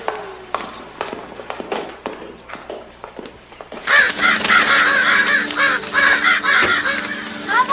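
Birds in a backyard, several loud crow-like caws breaking out over footsteps and rustling, close and busy after a quieter start.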